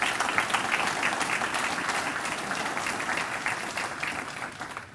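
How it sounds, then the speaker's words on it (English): Sustained applause from an audience at a county township officials' convention, steady dense clapping filling the whole stretch at even loudness, tapering slightly at the end. "hand and round of applause for them"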